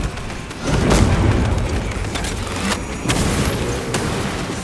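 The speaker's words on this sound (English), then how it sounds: "Deploying crack grenade." A crack grenade detonates in the video game Space Marine 2, a loud booming blast that rolls into sustained rumbling with further sharp bursts of gunfire-like cracks throughout.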